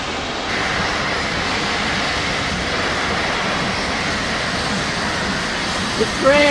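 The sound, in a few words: steam train passing by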